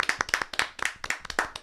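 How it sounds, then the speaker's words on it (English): Audience clapping for a comedian, with crisp, rhythmic handclaps in a steady pattern, close and distinct. "Everybody start clapping for my man Charles Walden."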